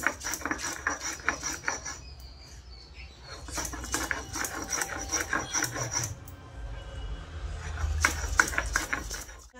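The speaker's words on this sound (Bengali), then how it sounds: "जिरा और आदाटा सिले आमी बेटे निচ্ছি" Cumin and ginger being ground on a stone slab, quick bursts of rhythmic scraping and rubbing strokes with short pauses between, close and fairly quiet, no speech.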